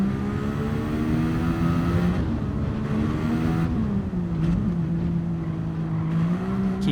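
A race car in a racing video game laps Mount Panorama, its engine whining steadily through the gears with pitch sweeps up and down as it brakes and accelerates, loud and continuous with no talk.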